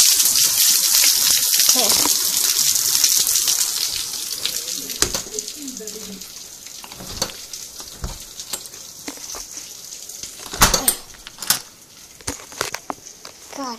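Heavy rain pours down outside a house on a Sunday, a steady dense wash that is loud at first and then eases into a softer patter, with scattered sharper splashes and a brief spoken word.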